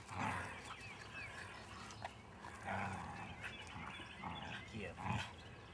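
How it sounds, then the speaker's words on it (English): A captive jackal growls in short low bursts close by during a frisbee play session outdoors, with a person talking over and between the sounds. "He's growling."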